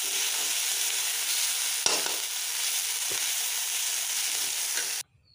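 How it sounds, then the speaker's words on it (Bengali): Dhenki greens with garlic and potato fry in hot oil, giving a steady, bright sizzle that holds continuously, with a couple of brief stirring scrapes, before stopping abruptly near the end. "দেখো তেলটা গরম হয়ে গেছে, এখন আমি আস্তে আস্তে করে এটাকে একটু ভাজা করে এখনই নামিয়ে দেবো"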